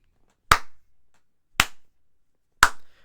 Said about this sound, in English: Round of applause for Leon Rocky Edwards